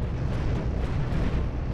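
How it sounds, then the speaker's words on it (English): A big ship cannon firing in the space combat game Cosmoteer, a steady loud, booming rumble of blasts with no pauses, no talk. "my big ass cannon firing here"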